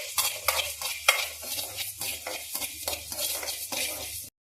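Red chillies and coriander dry roast in a pan, giving a dry rattling, scraping stir with rhythmic spatula strokes and a light crackle, steady and close, ending abruptly, with no voices.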